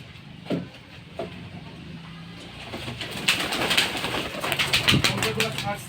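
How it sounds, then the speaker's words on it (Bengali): Pigeons let out of their coop at home, soft cooing mixed with bursts of wing flapping that grow busier toward the end, close by with some background noise. "কবুতরগুলো আগে ছেড়ে দিই"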